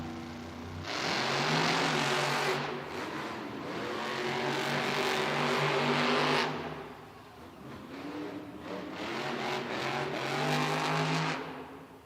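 Monster trucks Terminal Velocity and Gravedigger roar through a head-to-head race in an indoor Monster Jam arena in Green Bay, Wisconsin, with loud revving engines rising and falling in two long surges.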